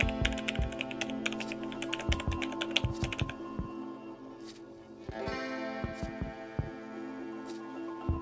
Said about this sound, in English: Hit the Enter key on your keyboard after typing.